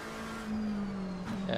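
Race car engine in the ACC racing sim, heard close and steady with a strong low drone, then a brief rise in pitch as it changes down a gear near the end.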